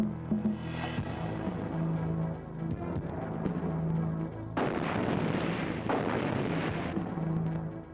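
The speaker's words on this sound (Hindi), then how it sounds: "चलाओ गोली।" Gunfire from a film scene, with loud sharp bursts of shots and booming blasts in a rapid volley over a steady background hum and no talking.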